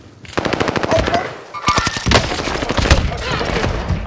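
Rapid machine-gun bursts and scattered gunshots in a multiplayer shooter game, loud and close, coming in two main volleys with a brief lull between them.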